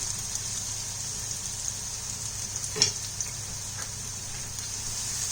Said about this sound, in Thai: ผัดกระเทียมให้หอมนะ ผัดผัดผัดใบกระเทียมนะคะเพื่อน ๆลงไปเลยนะคะ